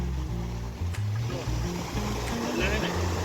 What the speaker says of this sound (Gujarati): હવે હાય હાય શું મોજા આવી રહેલા છે ભાઈ, ખતરનાક